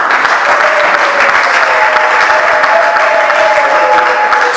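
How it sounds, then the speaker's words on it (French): Loud, dense applause from a church congregation honoring a priest at a jubilee celebration, a continuous roar of many hands clapping at an even level from start to finish with no gaps, and a faint tonal hum running beneath it. "S'il peut s'élever plutôt sous vos applaudissements"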